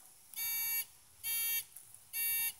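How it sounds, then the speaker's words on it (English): Three bursts of high-pitched electronic tone from a metal detector pinpointer ringing on a buried target in bushland, each lasting about half a second, evenly spaced and fairly loud over quiet background. "It's ringing up with the pinpointer."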